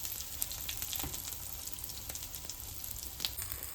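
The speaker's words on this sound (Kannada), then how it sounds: "ಚೆನ್ನಾಗಿ ಫ್ರೈ ಆಗಬೇಕಿನ್ನು ಕೋಟಿಂಗ್." Coating on a sweet potato wrap fries in a pan, giving a steady, even sizzle with scattered small crackles and pops throughout, close by and without talk.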